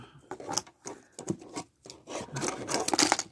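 Scissors snip and crunch through material in a quick series of irregular cuts, close up, with rustling between strokes.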